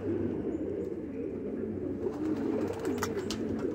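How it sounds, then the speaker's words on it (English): White homing pigeons coo softly in repeated low, throaty phrases against quiet background noise, with a few brief clicks and rustles near the end. "white homing pigeons."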